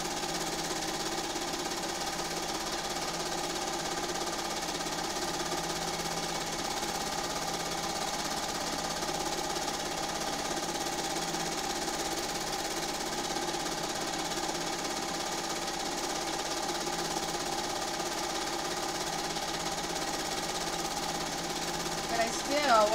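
Sewing machine quilting around a Pokeball design on a quilt, running as a continuous, even mechanical drone with rapid needle rhythm, steady and moderately close for the whole stretch.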